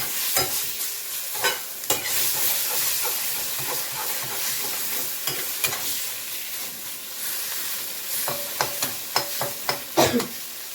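Ginger and spices fry and are stirred in a pan, giving a constant sizzling hiss. Close, sharp scrapes and clinks of the spoon come at irregular intervals and grow more frequent toward the end.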